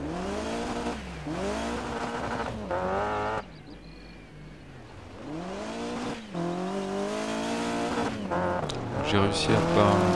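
Volkswagen Golf GTI 16V rally car in Dirt Rally 2 on gravel in Argolida, Greece, its engine revving up and down through gear changes with a brief lift-off and gravel crunch, and someone speaking over it.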